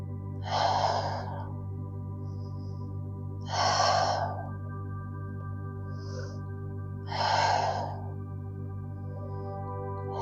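Three slow, audible breaths during a yoga hold with the right leg crossed over the left in cow face pose, each breath a soft, airy gasp spaced about three seconds apart over a steady low hum.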